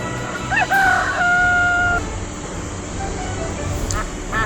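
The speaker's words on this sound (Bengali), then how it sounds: "মোরগ," A rooster crows once, a clear rising-then-held call lasting about a second and a half, heard alone and fairly close over a faint background hiss.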